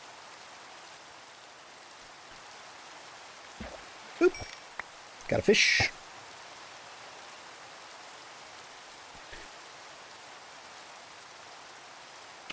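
Steady rain falls in the video game Minecraft during fishing, a soft, even hiss running the whole time. A few brief splashes and a short bit of speech sit on top of it.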